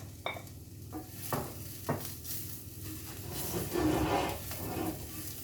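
A spoon scrapes and clinks around a pot of paprika, ginger and turmeric for chicken tagine, giving several distinct knocks against the sides over a soft sizzle, close and moderately loud.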